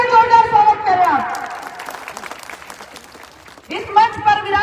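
An audience at a political gathering claps briefly in the middle, a short burst of applause between stretches of someone speaking over a microphone.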